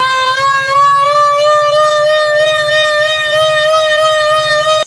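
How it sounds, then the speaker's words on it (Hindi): An old warning siren of the kind used in Punjab, played back from a recording, holds a steady loud wail with strong harmonics and no break for about five seconds, then cuts off abruptly. "ये चेक करें, ये सायरन चल रहा है आजकल।"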